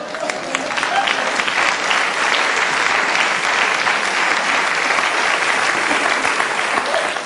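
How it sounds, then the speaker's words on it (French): A theatre audience at a French stand-up comedy show bursts into loud, sustained applause, a dense wash of many hands clapping close and unbroken throughout. "Tu l'applaudis maintenant, Jackie"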